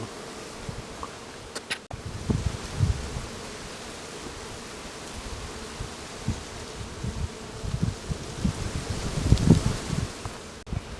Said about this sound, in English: This whole bush is humming with bees on this ivy.